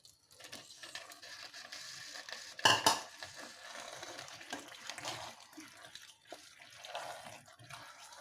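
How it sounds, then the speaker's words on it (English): Potatoes are dropped into a pan with a sudden clattering splash, followed by soft metallic scraping and stirring sounds, fairly quiet and close. "Drop in your potatoes,"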